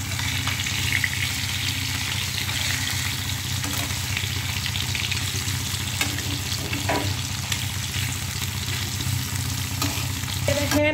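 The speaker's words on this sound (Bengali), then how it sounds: "ঝোলের জন্য মাছগুলো হালকা ভেজে নিব" Fish pieces lightly fried in oil in a pan give a loud, continuous close sizzle, with occasional faint stirring knocks throughout.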